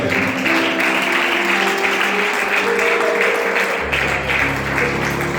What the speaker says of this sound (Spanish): Aplaudan para Dios en esta hora.